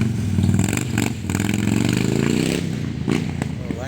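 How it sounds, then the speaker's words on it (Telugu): A Harley-Davidson motorcycle engine rumbles and revs nearby on a Singapore street, its deep throaty tone rising and falling over a few seconds. "హార్లీ డేవిడ్సన్ కదా"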